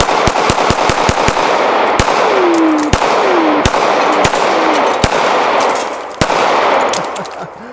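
Repeated pistol shots from an X-Carry handgun fired at a range, sharp loud cracks in quick bursts, some shots spaced out between with ringing echoes and a brief metallic whine.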